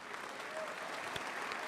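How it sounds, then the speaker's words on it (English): Audience applause at a live event, steady dense clapping from a crowd that fills the whole moment without pause. "May I ask that you give these people a round of applause?"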